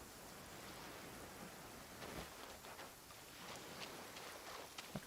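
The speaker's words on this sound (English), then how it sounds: "If this rain keeps up, my fur will be dripping wet" Rain falling in Genshin Impact, a soft steady wash of drizzle with scattered drops pattering on surfaces, faint and continuous throughout.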